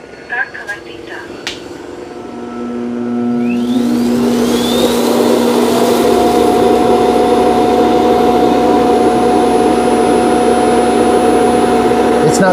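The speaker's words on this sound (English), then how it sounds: "It's going to auto empty and wash the mop pads." Eufy X10 Pro Omni robot vacuum dock auto-emptying, starting with a few clicks, then a rising motor whine that settles into a loud, steady suction roar with a sustained tone, heard close and alone.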